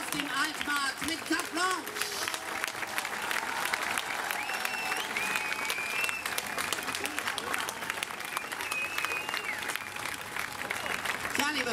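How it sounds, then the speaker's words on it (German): A large open-air festival crowd on the Altmarkt at Stadtfest Dresden 2017 applauds continuously with dense clapping, scattered whistles and cheers, fairly loud throughout. "wenn wir einfach für die Kollegen nach hinten einen affengeilen Applaus nach hinten schicken"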